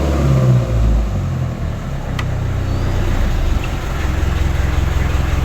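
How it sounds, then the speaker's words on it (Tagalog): A fishing boat's engine runs steadily and loudly with a constant droning rumble, and its pitch swells briefly near the start. "pinapaandar po ang ating makina"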